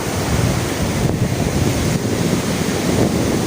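Sea waves washing along a beach shore at low tide, a steady loud roar mixed with heavy wind buffeting the microphone, continuous with no voices.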